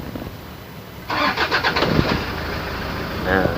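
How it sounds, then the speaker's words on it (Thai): Starter cranks briefly, then a Toyota 1KD/2KD diesel engine catches after a valve adjustment and settles into a loud, close, rattling idle. "เดี๋ยวผมจะทำการสตาร์ทเครื่องยนต์นะครับ"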